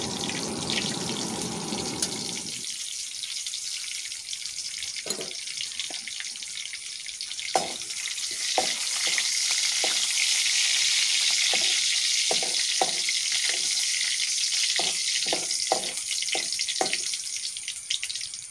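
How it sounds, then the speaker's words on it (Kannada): Cashew nuts frying in oil in a pan for jackfruit kesari bath, a steady close sizzle with scattered stirring clinks and scrapes throughout, no voices. "ಈಗ ನಾನು ಗೋಡಂಬಿಯನ್ನು ಹಾಕಿ ಫ್ರೈ ಮಾಡ್ತಿದ್ದೇನೆ."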